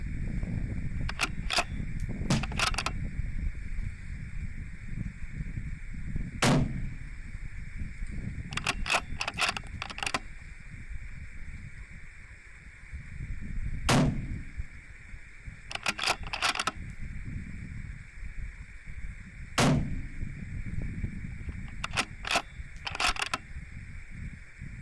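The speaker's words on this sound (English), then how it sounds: "my main goal there was to just send as many rounds as I could, as quick as I could" A 6mm Creedmoor rifle fired rapidly during long-range precision rifle training, producing sharp, distant-sounding cracks in quick clusters of two to four, separated by pauses over a steady background hum.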